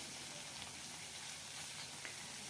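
Small mourola fish frying in plenty of oil in a wok, a steady, fairly quiet sizzle with no talking.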